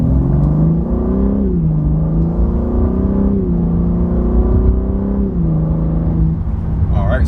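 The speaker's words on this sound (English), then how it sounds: "now I'm gonna give it some gas" A BMW G80 M3 with a DCT gearbox, set to level 2, accelerates hard from about 15, its engine rumbling loud and steady with rising revs and gear shifts near 1.5, 3 and 5 seconds.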